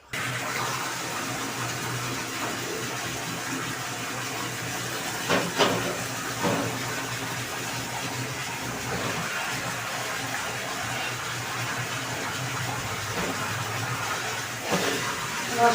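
Steady rushing water runs continuously while a quilt is rinsed, with a hissy, splashing texture, a few brief louder splashes along the way, no talking.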